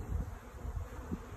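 Honey bees hum around beehives in a low, steady buzz close by, faint and continuous without speech.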